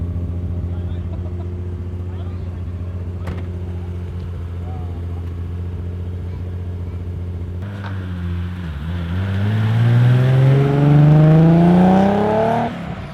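A Nissan 240SX engine starting and idling with a steady low hum, then revving up in a rising whine that climbs loudly near the end, with brief voices under it.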